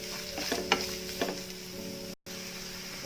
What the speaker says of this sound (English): mushrooms, grated carrot and beans, and mix this well.